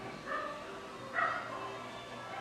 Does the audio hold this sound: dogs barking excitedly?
yes